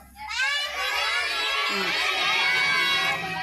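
Crowd of children shouting and yelling together as they leave a day school on its first day, a loud, continuous chorus of high voices that swells after a quiet start and stays dense throughout.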